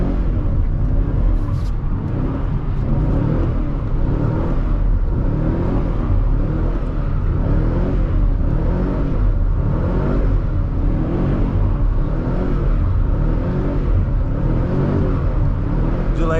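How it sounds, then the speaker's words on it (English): A fifth-generation Camaro SS doing a burnout, its engine roaring loud and close throughout with a steady rhythmic pulsing under sustained revving. "Burn out."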